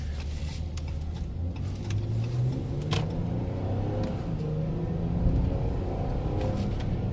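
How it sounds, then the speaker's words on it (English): A Ram 1500 pickup with a V6 engine and stock exhaust drones steadily while driving, its low engine note rising and falling through gentle acceleration and shifts, close and continuous with no talk over it. "Man, this thing sounds phenomenal too, actually, especially for a V6. Stock exhaust, stock truck."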